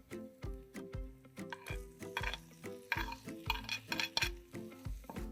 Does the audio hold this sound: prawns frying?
yes